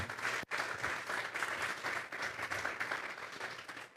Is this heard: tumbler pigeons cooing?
no